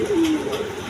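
A big red Indian Bombai pigeon at a pigeon farm gives a single short, throaty coo, close and clear over low background noise.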